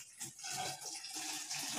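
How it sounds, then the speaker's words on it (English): Water from a bucket is poured into a bottle, making a soft continuous splashing trickle that stays fairly quiet and steady throughout. "we will fill this bottle with water"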